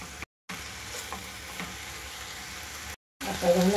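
Jackfruit bhaji sautés in a pan with a steady sizzling hiss and occasional stirring scrapes, broken by two brief silent cuts.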